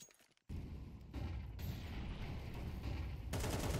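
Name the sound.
gunfire spamming through smoke in Counter-Strike video game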